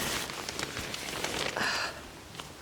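Rain falls steadily on a rainy day outdoors, a constant soft patter and hiss with denser splashes partway through, close by and without voices.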